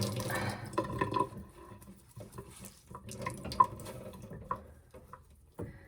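Water squeezed out of a freshly dyed plush toy in a sink after a rinse with a little laundry detergent, giving close, uneven splashing and trickling with a few sharp drips, and no voices.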